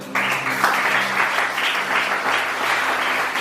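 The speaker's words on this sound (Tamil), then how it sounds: "கைகளை உற்சாகமா தட்டுவோம்" A church congregation claps hands enthusiastically during a Communion Sunday service, a dense, steady burst of applause that fills the whole moment, loud and close.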